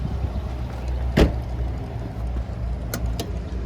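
A single sharp pop near 1.2 s as the fuel door of a 2006 Nissan Sentra 1.8S Special Edition releases, with two fainter clicks later, all over a steady low idle-like car rumble.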